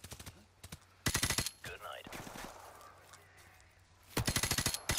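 Rapid AK-47 assault rifle bursts in Call of Duty 4: Modern Warfare, two loud automatic volleys opening and closing the stretch with quieter battlefield noise and a brief voice between them.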